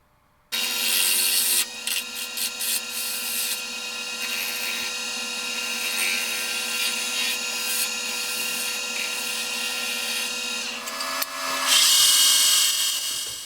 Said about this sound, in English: I'm using a deep fluted gouge here to remove that material.